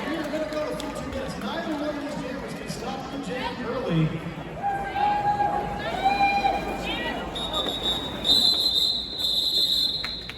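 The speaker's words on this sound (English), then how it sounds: "That quadruple whistle from the referees indicating the time has run out." Referees blow a quadruple whistle at a roller derby game between Louisville teams: several sharp, shrill whistle blasts near the end of the clip, cutting over crowd hubbub, skating rumble and ongoing commentary.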